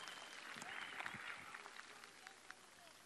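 A crowd applauds at a CHP political rally in Ankara where party leader Özgür Özel is speaking. The clapping is faint and distant, a soft continuous patter lasting a few seconds with no voices over it.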